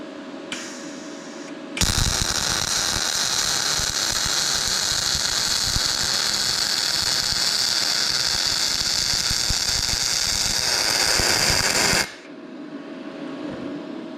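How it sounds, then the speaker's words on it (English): MIG welding thick aluminum with a Yes Welder YWM-200, a loud, steady, close crackling hiss that runs unbroken for about ten seconds between quieter stretches of background noise. "reset the machine for a thicker material, and we're gonna lay down some more beads"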